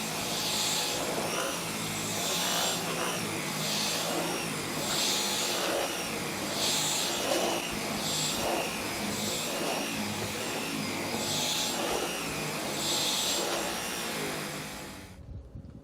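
A Dyson V12 Detect Slim cordless vacuum cleaner runs with a steady, loud whirring motor whine, its tone swelling softly in a regular pulse before cutting off at the end.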